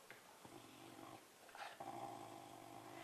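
A dog growls low and steadily while chewing, a continuous quiet rumble that swells briefly midway, heard close up with no talking.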